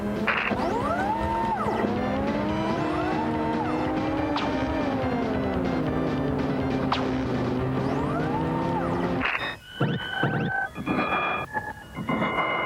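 Whining engine tones of Formula 1 cars in an Atari Jaguar racing video game rise and fall as they speed around a track, with a burst of electronic sounds near the end.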